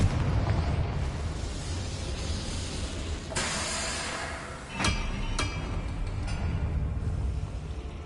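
Confringo explosive spell from the Hogwarts Legacy video game: a sustained roaring, hissing blast with a sharp burst partway through and a couple of crisp cracks after, loud and continuous throughout with no talking.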